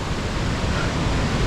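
Steady broadband roar of Ohiopyle's main waterfall on the river, a dense continuous rush of water with no voices.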